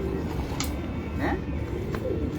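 A champion racing pigeon coos softly at a loft in Karachi. The short, faint coos sit under a steady background of noise.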